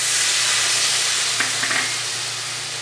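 Spice masala frying in a pan with a little oil as water is poured in, giving a loud steady hiss and sizzle with a brief bubbling burst midway.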